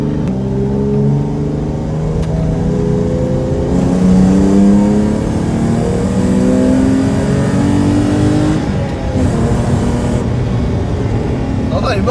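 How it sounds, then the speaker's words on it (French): A BMW E30 car drifting, its engine held at a steady high rev with a droning, harmonic-rich note that swells slightly and dips near the end. "j'ai l'habitude de drifter avec la E30"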